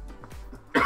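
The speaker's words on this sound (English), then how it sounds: "I've still got me cough." A single harsh cough bursts out near the end, loud and close, after a stretch of quiet low hum with faint throat noises.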